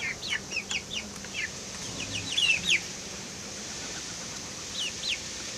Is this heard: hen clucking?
yes